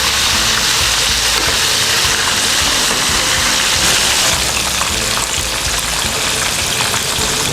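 Whole fish sizzling in hot oil as it is deep-fried until crispy, a loud, dense and continuous crackling hiss that holds steady throughout with no talk.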